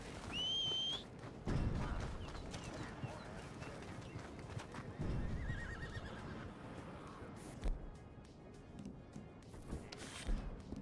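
A horse in a Western open-world game whinnies sharply near the start, then hoofbeats and movement clatter follow, with a faint whistle and scattered game sounds throughout.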